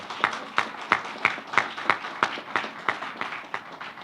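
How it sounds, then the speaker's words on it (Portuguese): An audience at a church sermon claps in a steady, rhythmic beat, roughly three claps per second in unison, moderately loud and without talk. "Merece uma salva de palmas."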